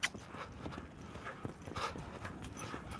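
A loping horse in a riding session, its hoofbeats thudding softly and unevenly at a moderate distance, with no one talking over them.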